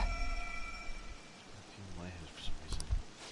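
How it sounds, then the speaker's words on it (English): Steady rain patters continuously in Persona 5 Royal, a soft even wash beneath a brief melodic tone, with faint voices speaking. "This rain ain't too bad."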